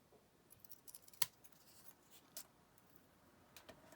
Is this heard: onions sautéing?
no